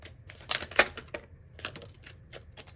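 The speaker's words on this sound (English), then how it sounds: "I'm going to keep shuffling because that was way too many cards at one time" Tarot cards are shuffled close by in a quiet room, producing a run of crisp, quick riffling clicks and snaps in uneven bursts, loudest near the start, then softer scattered taps.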